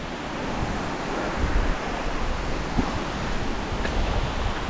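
Steady roar of Pacific Ocean surf washing against a rocky shore, broad and continuous with a few stronger surges and some wind buffeting, no voices.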